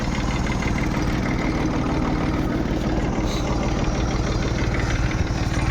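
A Dongfeng 244 tractor fitted with a homemade 1.35 plough idles close by with a steady, even diesel chugging that runs unbroken throughout, with no voices.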